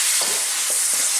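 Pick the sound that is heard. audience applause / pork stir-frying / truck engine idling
pork stir-frying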